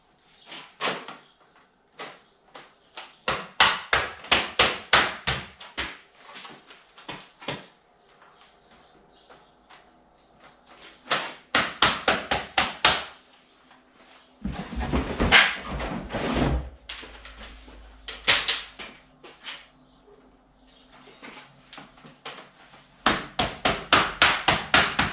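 IZIFLOOR garage floor tiles are snapped together by hand, giving bursts of rapid hard plastic clicks and knocks in clusters separated by quiet gaps, with some scraping and shuffling between them.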